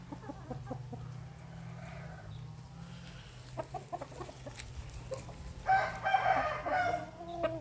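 Burmese game roosters crow and cluck in a farmyard, scattered soft clucks and calls building to a louder, drawn-out crow near the end.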